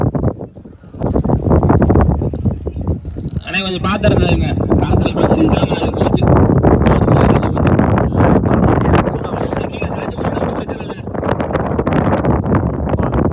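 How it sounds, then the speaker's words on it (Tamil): Strong wind buffets the microphone at an outdoor village cricket ground in Kuthinipatti, a constant loud roar and rumble lasting throughout, with a commentator talking over it. "செம்ம காற்று அடிக்குது கூத்தினிப்பட்டியில்."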